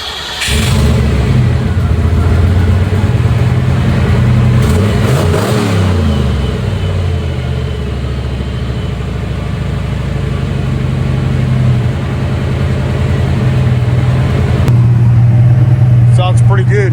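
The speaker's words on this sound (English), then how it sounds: "Borla Y-Pipe Pro XS muffler sound." A 500 hp GT40 turbo Ford Mustang engine with a Borla Y-pipe and Pro XS muffler starting and running steadily, a loud, deep rumble close by, rising briefly around midway, with a voice talking over it.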